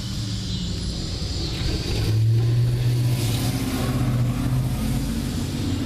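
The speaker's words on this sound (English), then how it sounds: "listening to this UPS truck." A UPS delivery truck rolls slowly past, its low engine rumble and road noise holding steady and swelling slightly partway through, heard from a moderate distance with no talking.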